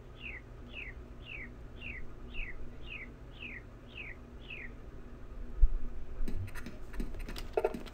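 Bird chirping in the game Gon: a series of about nine quick, evenly spaced high chirps over a low hum, followed by scratchy clicks and a brief thump.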